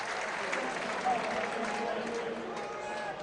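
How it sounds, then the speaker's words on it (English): Football crowd at a Burnley versus Plymouth Argyle league match applauding a goalkeeper, a steady broad wash of clapping and murmur filling the stadium, with commentary talk over it. "Gets applause from the crowd."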